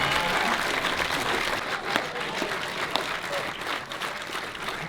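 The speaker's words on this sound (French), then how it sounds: "on peut accueillir, s'il vous plaît, sur un tonnerre d'applaudissements, Gleb" Sustained applause from an audience welcoming a guest named Gleb onto the stage at a film premiere, a dense steady roar of many hands clapping throughout.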